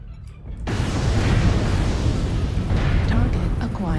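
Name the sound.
artillery strike explosions in video game MechWarrior Online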